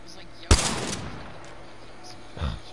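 Gunfire in a PS4 video game aimed at a cargo bot: one sharp, loud shot with a brief rattling tail, then a softer second report a couple of seconds later, over quiet game background.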